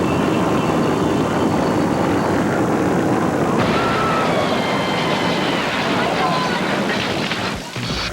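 A small propeller plane swinging around low, its engine drone loud and continuous with a rising tone partway through, close by, briefly dipping near the end.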